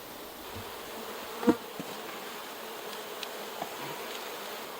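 Honey bees buzz around an open hive box above the queen excluder while frames of honey are pulled. The hum is a faint, steady drone throughout, broken by one sharp knock near the middle and a few small clicks.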